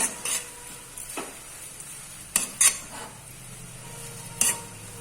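Papaya sambharo stirring in a pan after sugar is added: a quiet low sizzle under a few distinct scrapes and clinks of the spoon against the pan, with no voices.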